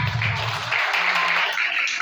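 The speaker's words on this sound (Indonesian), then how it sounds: "Tepuk tangan." Children and staff at an Indonesian elementary school clap to open a Ramadan short-course program, a loud, dense wash of hand claps that continues for about two seconds in a hall.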